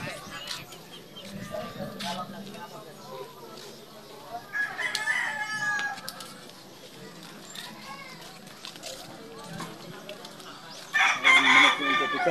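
A rooster crows at an island fiesta, its calls rising over steady background chatter and crowd noise, with a louder burst near the end.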